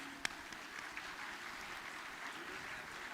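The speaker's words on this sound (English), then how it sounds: "A huge round of applause for our moderators and panelists" Sustained applause from a conference audience at an international CA students' conference, a steady even wash of clapping that carries through the whole stretch without a break.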